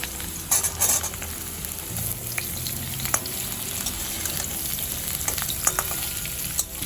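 Potatoes and drumstick pieces fry in a pan for a Bengali chorchori, giving a steady close sizzle with occasional scraping stirs and brief clatters of the spatula against the pan.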